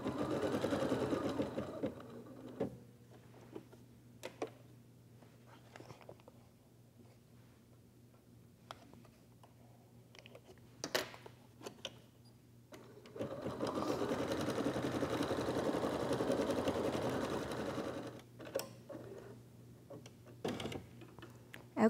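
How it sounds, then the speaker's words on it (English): A home embroidery machine stitches the eyes on an in-the-hoop egg holder, a quick mechanical needle chatter running in two long bursts separated by quieter pauses with small clicks, close and steady, with no talking. "we'll start that stitch sequence to do the eyes"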